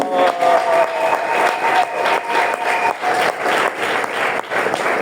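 Congregation applause and acclamation during a church sermon on prophecy, a dense, steady roar of many hands clapping with cheering voices layered in, loud and continuous throughout.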